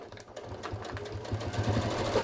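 A sewing machine stitches a jeans waistband in a quick, even, rapid mechanical whir with clicking needle strokes, close and continuous throughout.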